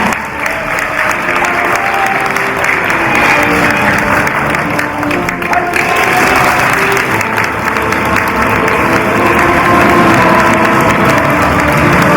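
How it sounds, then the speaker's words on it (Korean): Loud, dense applause from a large audience at a party founding rally fills the space continuously, a steady wash of many hands clapping with a faint murmur of crowd beneath. "여러분 다시 한번 큰 박수 부탁드립니다."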